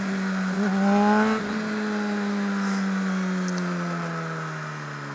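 A motorcycle ridden on the road after being repaired from a breakdown, its engine note holding steady then easing down in pitch, continuous and fairly loud with wind noise, no talking.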